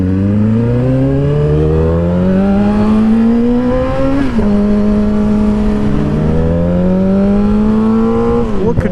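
A Suzuki motorcycle, stripped of unneeded electrical parts, idles loudly and steadily nearby, its engine pitch stepping up in gear-like rises and dropping abruptly twice, with no talking over it.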